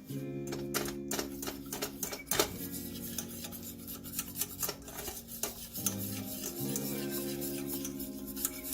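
Stock is whisked into a roux in a pot, a rapid metallic ticking and scraping of the whisk that keeps up steadily over a low background hum, close and fairly quiet.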